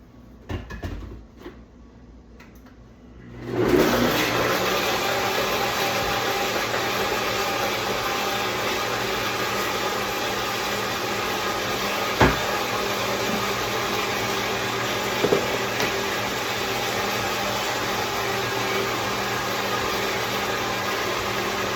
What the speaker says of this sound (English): we're gonna blend it up, and then I'm gonna pour it up.